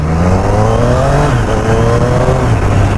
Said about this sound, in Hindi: I am quite happy with the exhaust of this 3 cylinder because it sounds very good